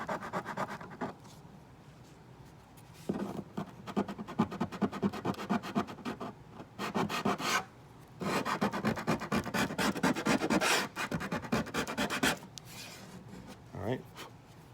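A sanding block rubs back and forth over the wood under the bridge of a vintage Gibson J-30 acoustic guitar, in bursts of rasping, scratchy strokes with short pauses between them. A voice is heard at times.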